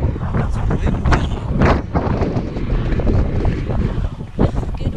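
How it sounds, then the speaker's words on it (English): Wind blows outdoors in gusty bursts, buffeting the microphone with irregular low rumbles and sharp swells that rise and fall across the few seconds, loud and close. "It's windy."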